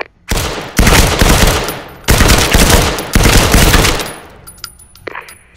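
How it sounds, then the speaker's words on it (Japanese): Rapid gunfire at targets in the PSVR game Firewall Zero Hour, loud sustained bursts of automatic-sounding shots in several long strings separated by short gaps, then faint trailing clicks. "R2 ボタンでハンドガンで目標を撃って"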